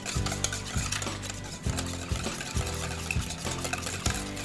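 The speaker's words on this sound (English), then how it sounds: "we're gonna whisk that together with the eggs" Canned pumpkin being whisked with eggs in a bowl, a steady run of quick scraping, clinking strokes against the bowl, close and fairly loud with no talk.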